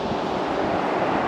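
Rushing water from a mountain waterfall and snowmelt creek near a glacier trail, a steady broad roar heard close and alone for a moment.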